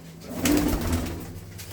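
Pigeons of the old red Cheena breed from Dhanna Baba's line coo softly in a loft, a few low throaty calls overlapping near the microphone, with no talk.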